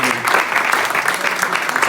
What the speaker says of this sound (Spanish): una aplauso